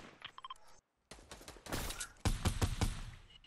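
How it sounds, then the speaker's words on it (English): Rapid gunfire in a shooter video game, including a sharp sniper-style crack, arrives in several loud bursts with a brief silent gap, followed by a cluster of heavy close shots. "Somebody just sniped him."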